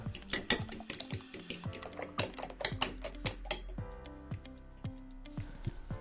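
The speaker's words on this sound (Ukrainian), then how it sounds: "В іншу миску збиваємо два яйця та трохи перемішуємо" Two eggs are beaten in a bowl with a utensil, producing quick, irregular clinks and taps against the dish, close and fairly soft, with no talking.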